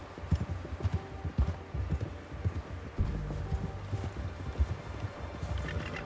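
A horse gallops in Red Dead Redemption 2, its hooves thudding in a quick, irregular rhythm at moderate distance. Low wind and ambient game sound run steadily beneath, and no one speaks.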